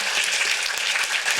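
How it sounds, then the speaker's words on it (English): Brief burst of audience applause at a young playwrights' festival of cold readings, quick dense clapping that stays level and fairly close for a moment, with no voices. "let's give a round of applause to Asa Baker Rouse."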